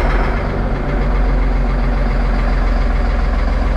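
Massey Ferguson MF 4409 tractor diesel engine idling nearby, a loud, steady low rumble with a fine rhythmic knock throughout.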